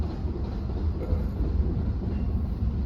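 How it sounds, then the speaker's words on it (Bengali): A freight train passes as a steady, heavy low rumble that holds throughout, with no voices. "এটা মালগাড়ি যাচ্ছে।"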